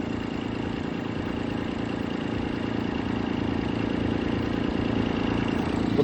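A farm tractor pulling a plow through a field, its engine droning steadily and loudly at close range with a throbbing low rumble and no break or voices.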